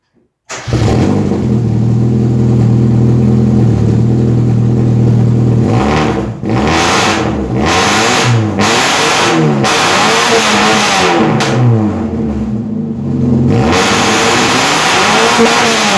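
A drift car engine cranks and catches after a brief silence, then holds a loud, close idle before a run of sharp throttle blips rises and falls repeatedly near the end.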